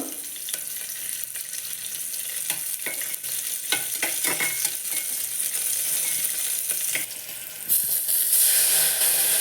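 Green chillies fry in oil in a pan for tamarind leaf dal, a continuous bright sizzle broken by scattered scrapes and taps of a stirring spoon, growing louder near the end. No one speaks.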